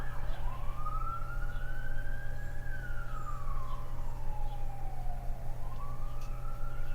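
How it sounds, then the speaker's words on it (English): An emergency vehicle siren wails in a slow rising and falling sweep with a whoop-like bend, heard at moderate distance over a steady low hum of background noise. "And now the siren's going whoop."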